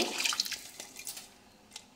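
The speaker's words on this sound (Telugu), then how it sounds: "గ్లాస్ బియ్యానికి 2 గ్లాసులు వాటర్ వేసాను" Water poured from a glass onto rice in a pot, two glasses for one glass of rice, makes a splashy trickle that is strongest early on and then thins to faint dribbles and a last small splash.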